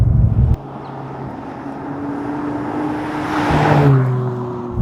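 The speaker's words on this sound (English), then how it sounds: "The engine sounds brilliantly guttural, with that noise managing to make its way past the turbos." A 2017 McLaren 540C engine growls and rises in pitch as it accelerates, swelling louder toward the end, with no one speaking.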